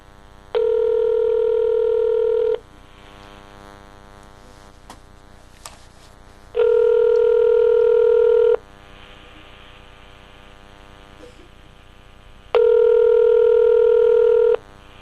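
A telephone rings before voicemail answers, a steady electronic ring tone heard three times in two-second bursts with long silent gaps, clear and alone over a faint hum.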